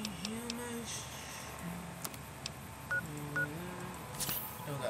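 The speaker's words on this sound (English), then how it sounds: "Oh, I found a phone." Telephone keypad dialing tones from a phone in the video game Fallout: New Vegas, a short series of distinct beeps over quiet game ambience and music, with no talk.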